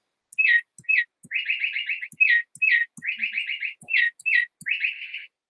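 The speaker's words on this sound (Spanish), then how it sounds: "los cantos del pájaro con el que yo estoy trabajando en Río Claro, el cucarachero, cabecinegro" A bay wren sings loud, clear phrases made of quick repeated whistled notes in rapid rolling bursts, with short pauses between the phrases.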